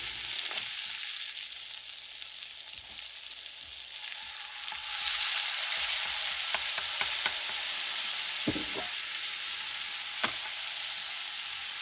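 Grated tomato fries and sizzles steadily in a pan of pork shoulder paella, with a continuous bright hiss that swells partway through while a utensil scrapes and stirs in scattered clicks; no one talks.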